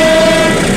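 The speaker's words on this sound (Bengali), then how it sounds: "এসে গেছে ট্রেন" A train passes the No. 2 rail gate level crossing in Narayanganj, Bangladesh, with a loud, sustained horn blast held steadily over heavy rumbling rail noise, close by and with no talk.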